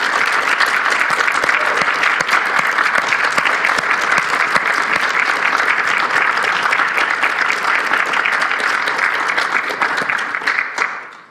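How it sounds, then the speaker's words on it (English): An audience gives a sustained round of applause for young climate panelists at a public discussion in Ireland, dense and steady clapping throughout that tapers off slightly at the end. "can we just get a round of applause, please, for our panelists?"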